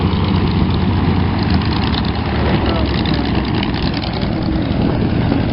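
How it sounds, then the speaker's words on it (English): A steady, loud light aircraft engine drone with heavy low rumble as the engine winds up before shutdown at a fly-in, runs continuously close by, with no clear change in pitch. "these planes are just doing a wind up to shut down the engine."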